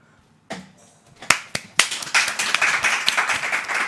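Several sharp hand claps ring out, first a few scattered single claps, then a quick burst of rapid clapping from a small group, close and fairly loud.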